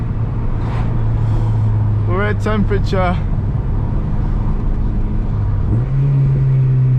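A Honda Civic EP3 engine runs at a steady, loud drone, with voices talking briefly over it before the revs step up sharply near the end.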